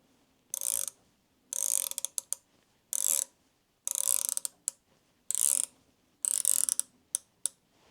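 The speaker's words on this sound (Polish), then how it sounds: "Więc teraz z powrotem dokręcam ten naprężacz o 5 obrotów." A ratchet tightens a tensioner through five turns, giving six or seven crisp bursts of close, rapid clicking, each lasting under a second, with quiet gaps between them and no talk.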